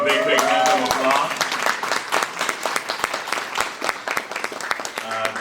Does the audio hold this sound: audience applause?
yes